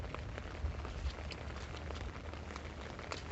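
Rain patters steadily on surfaces around a house, a dense, even hiss with scattered nearby drops, heard with no voices.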